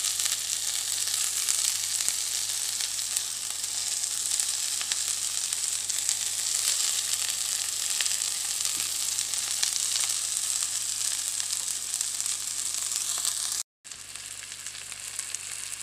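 Masala-coated pomfret frying on a hot tawa gives a loud, steady sizzle that runs unbroken and close, with a brief silent dropout just before the end.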